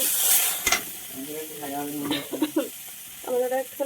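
Tomato added to a frying pan with spices for a white potato curry gives a sharp hiss, then soft sizzling and stirring scrapes, fairly faint, under someone talking.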